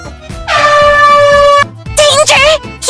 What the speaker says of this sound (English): I'm gonna start blowing out that air horn and then hide as quickly as I can